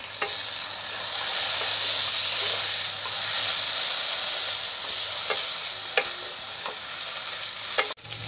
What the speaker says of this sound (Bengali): এবার মশলাটার সঙ্গে হালকা একটু কষিয়ে নিচ্ছি